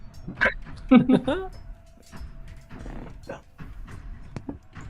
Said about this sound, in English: Brand new dog.